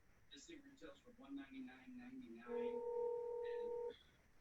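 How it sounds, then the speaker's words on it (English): A telephone ringing over speakerphone during a live radio-style podcast call, heard as one sustained electronic ring tone near the end, faint and slightly tinny, after a short stretch of voices talking. "Y'all heard the phone ring?"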